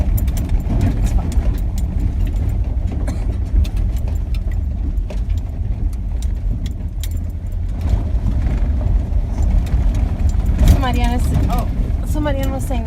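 A vehicle crawls at barely walking pace down a very rough, rutted dirt road on a rockhounding trip for agates, with a steady low rumble and jostling rattles throughout as people talk over it.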